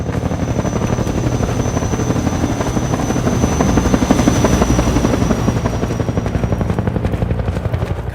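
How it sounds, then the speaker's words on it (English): A Combine attack helicopter in Half-Life 2, its heavy rotor thump and engine drone loud and steady, swelling slightly midway before holding constant. "here's where we fully introduce the main boss of the Canals chapter, the Combine attack helicopter"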